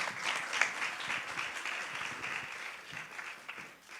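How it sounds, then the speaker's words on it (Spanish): Steady applause from an audience filling an auditorium at the close of a conference, a dense wash of many hands that holds evenly for several seconds, then thins slightly at the end. "Un aplauso, por favor."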